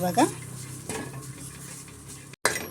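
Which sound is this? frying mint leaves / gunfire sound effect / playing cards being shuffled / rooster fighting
frying mint leaves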